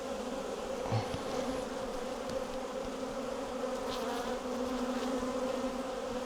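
Honey bees humming in an open hive, a dense, steady close drone of many wings with a few individual buzzes passing near, no voices.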